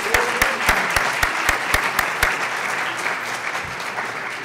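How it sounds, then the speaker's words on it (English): An audience applauds presenters on a university panel about living with schizophrenia: a few sharp, evenly spaced close claps start it off, then the room's clapping settles into a steady, fairly loud patter. "let's give them a round of applause for coming out,"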